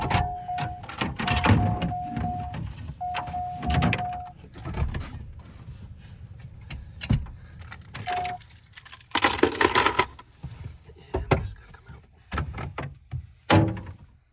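Plastic trim ring pried out of a car's interior during a remote starter repair: close, irregular cracks, snaps and scraping clatter, with a brief squeaky tone in the first few seconds and no talking.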